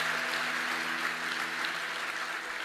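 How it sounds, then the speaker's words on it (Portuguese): A congregation claps during a church service, a steady, fairly quiet wash of many hands with a faint hum underneath, lasting a few seconds. "Dê um aplauso a Jesus."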